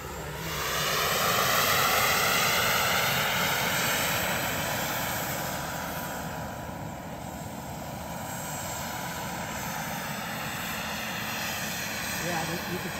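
A Vario 1/4 scale Lama RC model helicopter in forward flight, a loud steady rotor and engine drone that swells as it passes nearby and then holds at a slightly lower level, with people talking over it.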